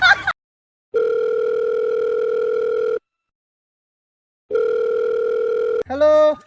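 A phone's ringback tone plays over speakerphone: two long, steady electronic buzzes separated by a gap of silence, loud and clear, with a brief burst of other sound at the very start and end.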